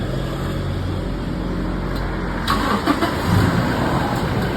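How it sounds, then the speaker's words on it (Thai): A Toyota Revo pickup with upgraded Bi-LED headlights starts up nearby, the crank catching partway through and settling into a steady engine hum over a constant background drone. "สตาร์ทรถเลย"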